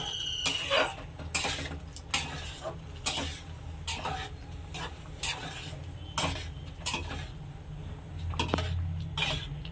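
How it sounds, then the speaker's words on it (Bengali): A spoon stirs lentil and bottle gourd dal in a pot, giving repeated scraping clinks at an uneven rhythm, fairly quiet, over a steady low stove hum. "এখন ভালোভাবে নাড়াচাড়া করে নেব।"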